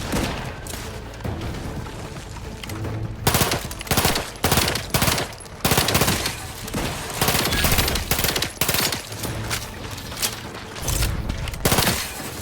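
A gun in The Outer Worlds 2 fires in loud, rapid automatic bursts, with repeated volleys of gunfire broken by brief pauses and sustained for about twelve seconds.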